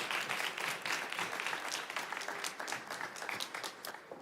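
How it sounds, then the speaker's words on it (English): Applause from a business conference audience in Canada, a dense, continuous patter of many hands with a few sharper claps standing out, fairly soft and sustained. "please give them a round of applause as they do"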